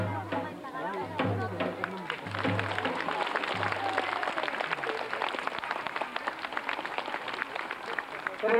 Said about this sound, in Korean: 오래간만에 박수 소리 조금 크게 나오니까